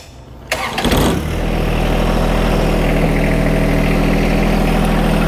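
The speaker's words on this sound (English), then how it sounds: "we'll start the tractor up" A starter cranks briefly, then a John Deere compact tractor engine catches and settles into a steady, loud idle nearby.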